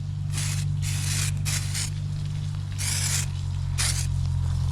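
Several short hissing bursts of sandable aerosol spray coating onto plastic, some quick and some longer, over a steady low hum in the background.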